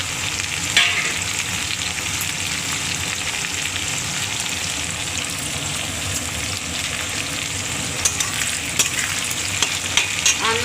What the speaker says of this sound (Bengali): চিংড়িটা এর সাথে আমি ভেজে নিচ্ছি, আর লঙ্কা তেজপাতাও দিয়ে দিচ্ছি,